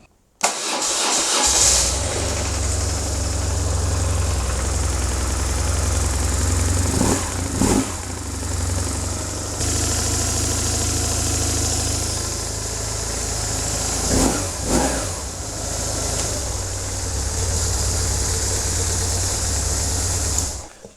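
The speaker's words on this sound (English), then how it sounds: "we'll just start the bike up, make sure it runs okay" BMW R1150GS motorcycle, fuel tank just refitted, cranks and fires up, then settles into a loud, close, steady boxer-twin idle with a couple of brief revs along the way.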